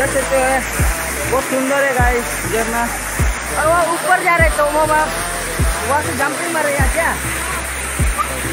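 A waterfall in a village setting gives a steady, loud broadband rush of falling water throughout, while several people talk excitedly over it nearby.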